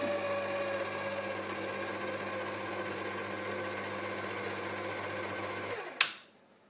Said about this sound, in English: I'm going to let the mixer beat that in for a little bit.